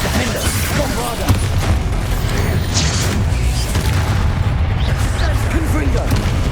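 A blasting Bombardo spell is cast in Hogwarts Legacy, bringing heavy booms and mechanical clatter in a loud, busy combat mix, with voices calling out over the noise.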